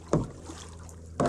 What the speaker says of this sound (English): Just try to paddle out a little bit.